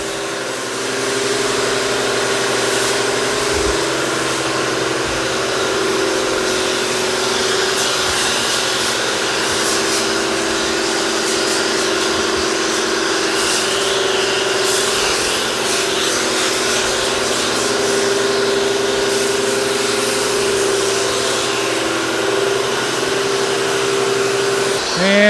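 A power washer runs steadily with a foam cannon while a tractor is foamed and cleaned, a continuous loud motor drone and hiss that holds for the whole stretch.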